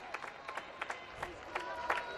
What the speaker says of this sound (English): he deserves the round of applause that he gets from those supporters